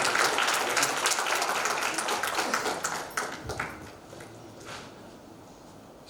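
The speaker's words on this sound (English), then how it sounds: "Let's give a round of applause for" Audience applause for a speaker at a corporate HR leadership forum, loud and steady at first, then thinning and fading over the second half to a few scattered claps.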